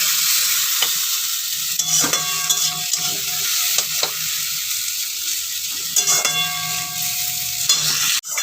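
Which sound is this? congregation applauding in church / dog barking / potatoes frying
potatoes frying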